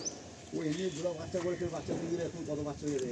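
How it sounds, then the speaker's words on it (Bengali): A female pigeon in a loft coos in a run of soft, warbling, rolling notes. The calls pulse in repeated phrases and sound close and fairly quiet. "একটা ফিমেল পায়রা"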